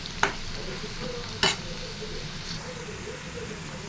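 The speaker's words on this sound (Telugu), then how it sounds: "ఉల్లిపాయలు దోరగా వేగిపోయినాయండి" Onions frying in a pan for broad bean curry, a soft continuous sizzle with two sharp scrapes or taps of a stirring spoon against the pan.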